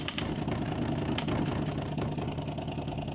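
A heavily limescaled DeLonghi espresso machine runs its rinse cycle with the hot water nozzle fitted, producing a steady, close, rumbling pump drone.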